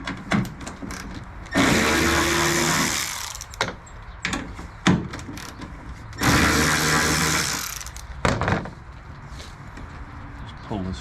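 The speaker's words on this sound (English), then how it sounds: "we got to remove these 8mm screws here so we can pull this taillight fitting out" A ratcheting power tool backs 8mm screws out of the taillight on a 2006 Ford F350, sounding as two loud, close whirring bursts of a few seconds each, with clicks and handling noises between them.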